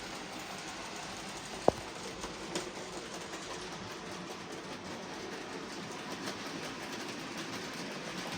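A DC model locomotive with EFE wheels running on analogue track makes a steady, close whirring rumble with faint rail clicks and one sharp tick early on.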